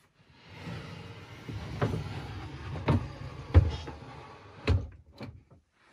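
An Aussie 2 sewing cabinet is folded closed, giving a handful of soft wooden knocks and thuds spaced out over several seconds in a quiet room.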